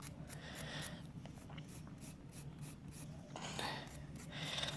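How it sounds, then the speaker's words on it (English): A nail file rasps against a fingernail wrapped for an extension, shaping it in quick back-and-forth strokes, close and soft, continuing steadily with slightly stronger passes near the end and no talking. "Filing my nail to the shape I want, all in one step."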